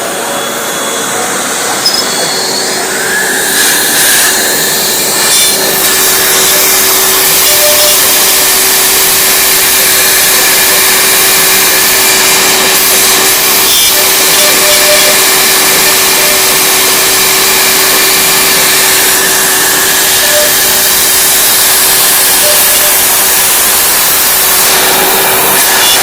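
MultiCam CNC router milling with an end mill, a loud, continuous high whine and rushing noise that holds steady over the whole stretch with faint shifts in pitch.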